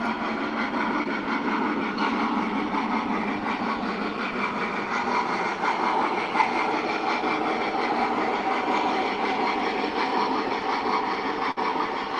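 An MTH Santa Fe Blue Goose model train set gives a steady, even mechanical rumble and hum throughout as it rolls continuously on its track, with a single sharp click near the end.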